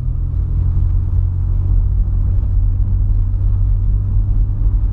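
A manual-transmission car pulls away gently, its engine giving a low, steady rumble that stays close and even throughout, with no voices.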